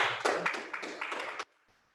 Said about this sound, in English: You're applauding yourselves.